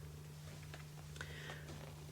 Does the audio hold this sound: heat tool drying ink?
no